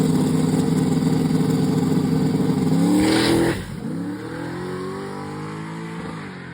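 A race truck's engine revs hard at a drag strip after a torque converter change, a loud sustained roar that climbs in pitch, then drops off sharply midway and settles into a lower rumble.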